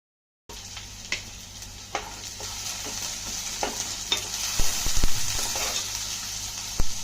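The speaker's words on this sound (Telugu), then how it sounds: "ఉల్లిపాయ పచ్చిమిరపకాయలు కరివేపాకు మొత్తం వేసుకోవాలి కలిపి బాగా వేయించండి" Onions, green chillies and curry leaves fry in hot oil while being stirred, a steady sizzle broken by scattered spoon scrapes and knocks against the pan, close and alone.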